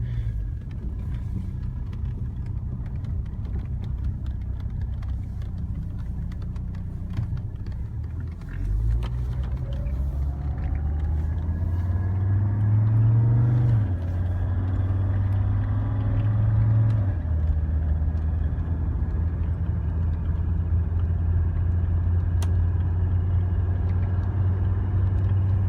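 Low, steady engine rumble from inside a moving Mercedes-Benz with 231,000 miles, a rising whine as it accelerates partway through and a constant drone throughout.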